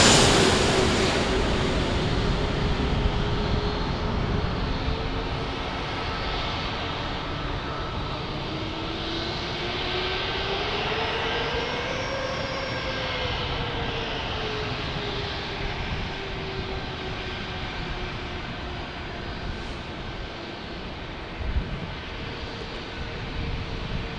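A Boeing 737 Max jet passes at San Diego airport, its steady engine roar carrying a whine that rises and falls in pitch midway through, alone and at moderate distance.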